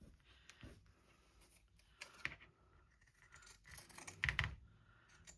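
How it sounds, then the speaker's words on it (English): Pinking shears trim fabric swatches in a quiet room, giving a few faint, scattered snips and scratchy cuts with a brief louder burst near the end, no voices. "I'm going to take my pinking shears and I'm going to trim these"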